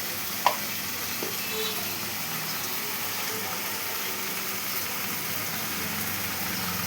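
Spice masala with turmeric fries in a pan, giving a steady, even sizzle and hiss throughout, with one brief click near the start and faint stirring underneath.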